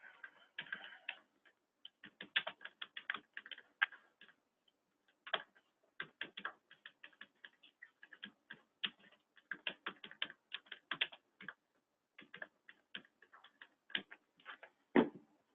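Keys on a computer keyboard clatter in quick irregular bursts and pauses, close and fairly quiet, as someone types out text for a real estate ad, with no talking.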